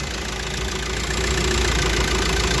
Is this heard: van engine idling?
yes